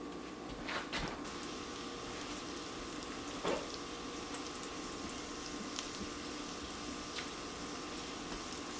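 Alaskan pollock fish wraps frying in a pan, a steady low sizzle running throughout with a couple of brief clatters near the start and middle, no one talking.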